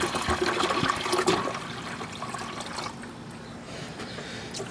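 A gallon of ice-cold tap water pours into a brine of kosher salt and dark brown sugar, a loud splashing gush that settles into a softer, steady trickle as the pour continues.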